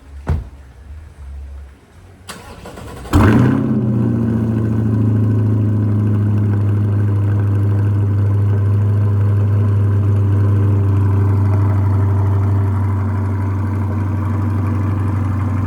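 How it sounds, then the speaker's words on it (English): A straight-piped Chevrolet C8 Corvette cold-starts with a sudden loud crank and rev, then settles into a deep, rumbling idle that holds steady and close for the rest of the clip. "let's get a cold start on this thing."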